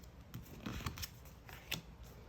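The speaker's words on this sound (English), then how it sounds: "Let's pull out 8 more cards from the tarot." Tarot cards are pulled from a deck one after another, producing soft quick slides and light papery snaps in an irregular rhythm, close and quiet with no voices.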